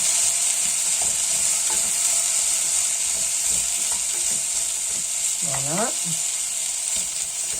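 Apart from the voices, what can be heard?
stirring radish-top soup ingredients in a pot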